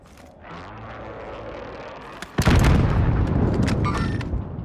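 Gunfire in the Warzone video game: a quieter stretch of game ambience, then a loud blast at mid-clip that breaks into sustained, heavy shooting and rumbling booms that carry on to the end.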